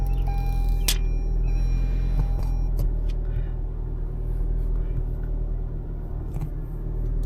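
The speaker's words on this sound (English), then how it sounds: "let's just start this car real quick" A car starts and settles into a steady idle, with a deep continuous rumble, a few sharp clicks and knocks early on, and the engine droning evenly to the end.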